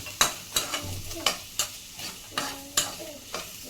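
Boiled potatoes being stirred and fried in a pan for a fasting-day vegetable dish, with a spoon scraping at an irregular steady pace, about a dozen sharp clinks and scrapes over a soft sizzle, close and fairly quiet.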